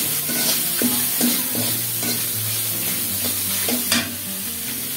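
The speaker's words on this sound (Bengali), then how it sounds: "এবার মশলাটাকে একটু কষিয়ে নেব" Ground spice paste stir-fried in a pan while cooking rohu fish head with bottle gourd, with a steady sizzle broken by repeated close spatula scrapes and stirs, no talking.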